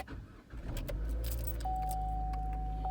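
A car engine idles steadily at close range with a low continuous rumble, a thin whine rising in partway through, and keys jangle briefly near the start.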